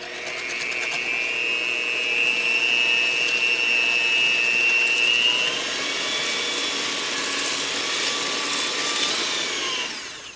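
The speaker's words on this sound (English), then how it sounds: "we're just gonna use a wire whisk attached to our egg beater" An electric egg beater with a wire whisk attachment beats eggs with allulose, giving a steady, close motor whir with a high whine that holds for several seconds, then shifts to a rougher buzz until it stops.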